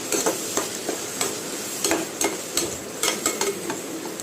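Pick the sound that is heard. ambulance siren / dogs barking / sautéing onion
sautéing onion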